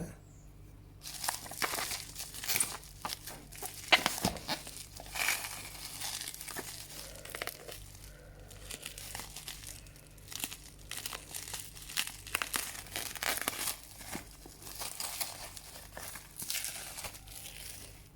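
Packaging for a Lenovo Bluetooth speaker crinkles and tears during unboxing, giving close, irregular plastic and paper rustling bursts that continue throughout with brief pauses, and no talking.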